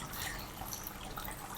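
Water trickling down small tiered waterfalls in a misty lit water feature at Inkstone Village in China, a steady, even wash of flowing water at moderate level throughout, with no voices.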